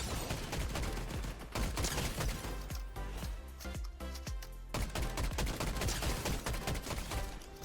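Rapid gunfire from players fighting in Fortnite, dense bursts of automatic shots and single cracks layered continuously, loud and close throughout.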